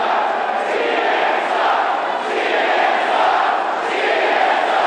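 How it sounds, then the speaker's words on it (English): A large crowd at a Trump rally in Phoenix roars and chants in rhythmic waves, a dense sustained shouting that swells and dips every second or so. "CNN, a usual target of Trump's, took the brunt of the crowd's anger as they chanted."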